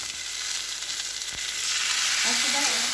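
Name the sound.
stirring spices frying in a pan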